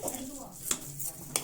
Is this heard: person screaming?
no